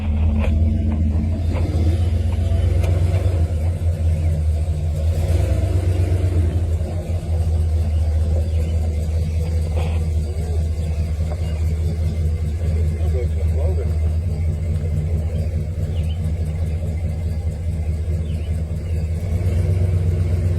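A 1976 Pontiac Catalina engine idles steadily after starting, a loud, continuous low rumble close by with a slight rev near the middle and a voice speaking over it.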